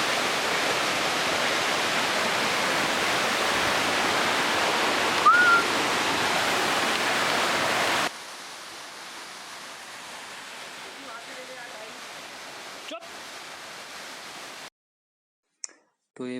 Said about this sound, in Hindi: so this is the waterfall